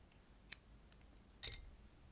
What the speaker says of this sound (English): So I'll cut off the yarn.